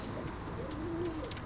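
Tumbler pigeons coo softly in a loft in Buca, İzmir, a low rolling coo rising and falling in the middle, faint and close against a quiet background with no voices.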